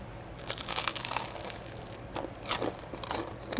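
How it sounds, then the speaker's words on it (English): Teeth crunch into crisp onion focaccia bread, several close, dry crackling bites in quick bursts with brief pauses, no talking. "Let's see about that crunch."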